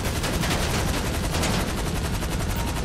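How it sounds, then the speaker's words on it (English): A minigun in the video game GTA V fires a continuous, rapid stream of shots, forming a dense, loud, unbroken rattle that lasts throughout without any talking. "I just hear a minigun, not non-stop, just open fire in the background."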